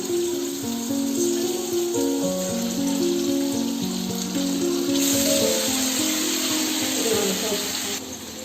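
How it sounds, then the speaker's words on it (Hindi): Paneer cubes frying in hot oil in a kadhai give a steady sizzle and crackle, with someone talking over the cooking throughout. "अब हम इसमें पनीर को थोड़ा सा फ्राई कर लेंगे।"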